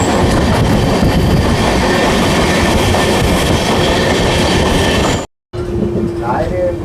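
Amrit Bharat Express passenger train running on rails, a loud steady rumble and rattle of carriages that cuts out abruptly for a moment, then resumes with a faint squeal.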